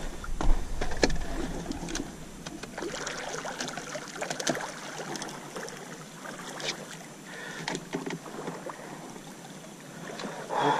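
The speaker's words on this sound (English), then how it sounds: "Get on the trolling motor, let's revive." Boat on the water during tarpon fishing in Texas, driven by a trolling motor, with close splashing, wind and hull noise running steadily throughout, nothing heard alone.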